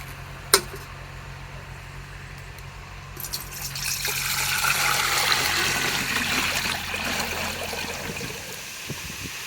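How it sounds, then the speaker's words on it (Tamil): Eggs being washed by hand in water, with splashing and trickling liquid sounds that grow louder after a sharp knock near the start, continuing steadily close by with no talking. "ஃபர்ஸ்ட் எடுத்த உடனே வந்து முட்டையை வந்து தண்ணியில் கழுவிக்கலாங்க."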